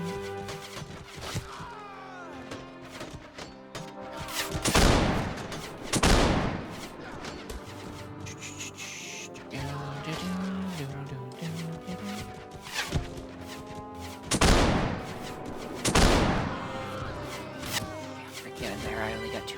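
Bursts of gunfire in the Warsword video game, loud repeated volleys with heavy crashing shots clustered in several bursts, sounding over a background of game noise.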